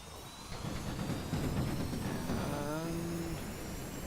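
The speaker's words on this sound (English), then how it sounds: "let's throttle up here and hit the rockets" Rocket engines roar faintly and steadily on a homebrew attack fighter aircraft in a flight game, a low continuous rumble with a rising tonal whine partway through.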